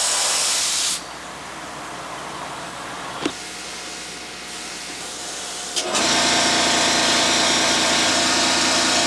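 A sprayer hisses loudly as finish is applied outdoors to a model airplane wing covered in tissue, with a long spray burst that stops, a quieter pause broken by a click, then a second sustained hissing burst.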